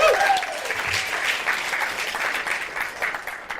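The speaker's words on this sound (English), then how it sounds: "let's all give Philip, the biggest round of applause" Applause from a conference audience, a steady dense patter of many hands clapping that holds at an even level throughout, with no talking over it.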